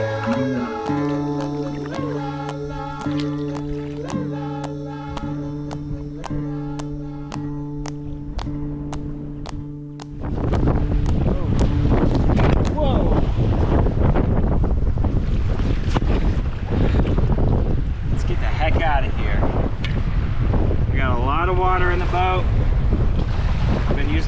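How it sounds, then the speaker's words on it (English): Strong wind buffets the microphone while canoeing on Lake Oahe on the Missouri River. Chiming tones fade out first, then a loud, continuous roar of wind and rushing water takes over, close and unbroken, with no voice. "I thought the wind was supposed to be easy today."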